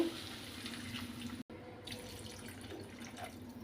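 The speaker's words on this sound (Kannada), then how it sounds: "ಇವಾಗ ಎರಡು ಲೋಟ ಆಗುವಷ್ಟು ನೀರು ಹಾಕ್ಕೊಳ್ಬೇಕು ಇದಕ್ಕೆ" Water pours steadily into a pan of ivy gourd and chickpeas with a hollow splashing gurgle, briefly cut off midway, then continuing.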